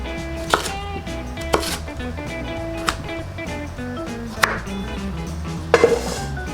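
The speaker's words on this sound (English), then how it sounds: "We're just gonna cut these sweet potatoes up into random tiny pieces." A knife chops sweet potatoes into small pieces on a cutting board, giving sharp, close, evenly spaced thuds roughly once a second, with softer scraping and board knocks in between.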